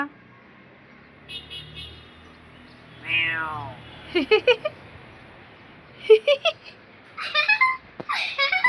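A pet myna bird mimics a cat's meow with a drawn-out rising-falling call, followed by bursts of chattering, giggle-like chirps; a person talks softly to the bird in between.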